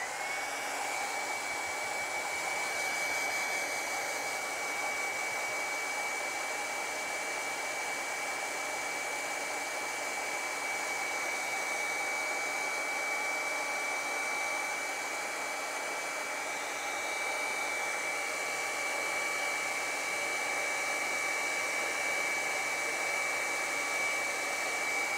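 A hair dryer blowing steadily on an Inktense Halloween painting, a continuous close whirring hum with a high whine, unbroken and without talk.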